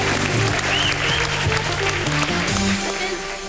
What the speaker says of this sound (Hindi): है भारती और करण के लिए जोरदार तालियां।